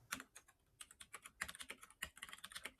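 Python code typed on a computer keyboard, with crisp, close keystrokes in quick irregular clusters separated by brief silences, played at low level.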